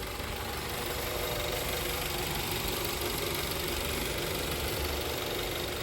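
A 2.5-litre engine in a 2011 Mazda CX-7 with more than 350,000 miles runs at a steady idle, producing a loud, continuous broadband drone with no talking over it.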